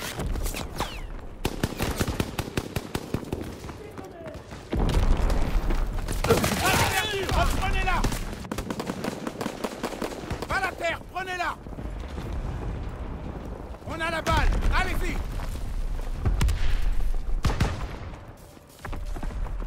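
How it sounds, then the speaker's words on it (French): Covering gunfire in a Call of Duty WWII Hardball match, a dense, loud fusillade of rapid automatic bursts and explosions running almost continuously, with voices mixed in. "Ils font un tir de couverture."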